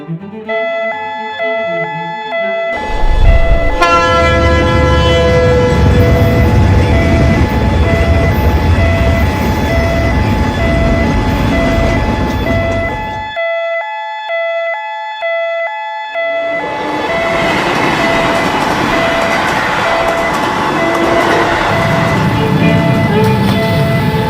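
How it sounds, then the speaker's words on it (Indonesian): A train passes a railway level crossing, its horn sounding in long sustained tones over heavy rumbling, a brief lull, then more horn blasts and rolling noise as cars go by, loud and close. "merekam kereta lewat dekat palang pintu perlintasan"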